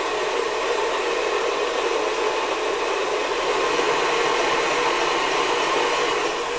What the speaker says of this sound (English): we're going to want to beat this probably for a minute or two on a medium to a medium-high speed, just until the egg whites form soft peaks